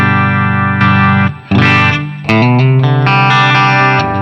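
Electric guitar through a REVV Tilt Overdrive pedal set to normal boost, both controls at noon, plays a loud, saturated phrase of held chords and moving single notes, with one short break, no talking over it.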